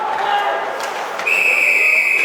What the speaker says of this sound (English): With that whistle, with the first penalty of the game